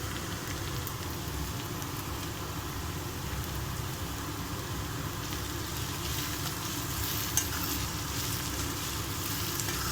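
Onion, green chilli and turmeric frying in a pan, a steady, fairly loud sizzle that continues without a break and has no talking over it.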